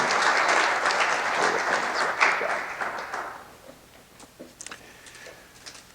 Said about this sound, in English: Let's have a round of applause for our panel here.